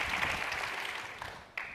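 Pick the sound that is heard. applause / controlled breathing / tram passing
applause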